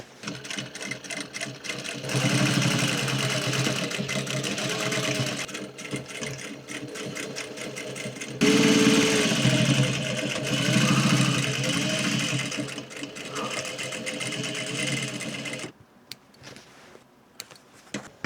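Sewing machine top stitching a pair of dungarees, a fast steady mechanical whirring that runs in long close bursts with brief pauses, then stops near the end.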